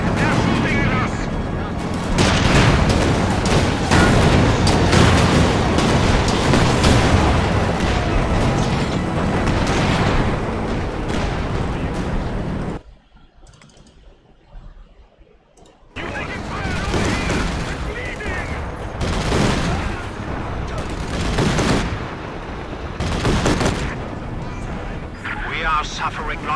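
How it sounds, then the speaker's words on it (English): Dense gunfire and explosions in Company of Heroes 2 during a 4v4 online co-op battle against AI. A loud, continuous barrage of shots and booms breaks into a brief lull, then resumes with voices speaking over it. "They're shooting at us."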